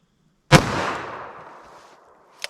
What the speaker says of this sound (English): let's hit our 44 special